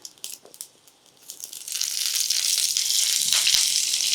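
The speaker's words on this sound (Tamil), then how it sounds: "கடுகு நல்லா பொரியணும் பாருங்கள் நல்லா வெடிக்க ஆரம்பிச்சிருச்சு" Mustard seeds in hot oil, tempered with dried chillies and curry leaves. Scattered crackles come first, then a dense, loud, steady sizzle with sharp pops. It sounds close, and no one speaks.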